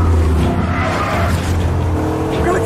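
A presidential limousine drives across the White House grounds amid an action chase, its engine and rolling tires forming a loud, continuous vehicle roar with a brief screech.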